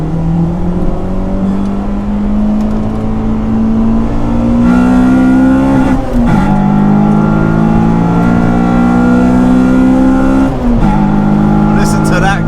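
Honda Civic Type-R EP3 on a track gives a loud, close, sustained engine drone that climbs steadily through the revs, drops at two gear changes, and pulls up again each time, with wind noise mixed in.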